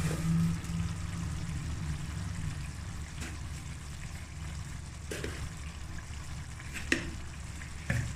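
Pumpkin with amchur powder and sugar is stirred in a pan, giving a low, steady sizzle with a few soft scrapes and knocks. The sound is faint and even, with no talking.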